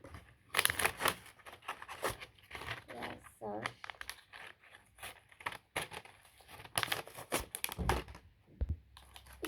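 New pens being unpacked from plastic packaging after a stationery and book shopping trip give loud close crinkling and tearing rustles in irregular bursts, with someone speaking briefly in between.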